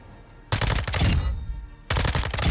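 Weapon build fired on the Modern Warfare 2 firing range: two loud, close bursts of rapid automatic gunfire, the first lasting over a second and tapering, the second starting abruptly after a short pause.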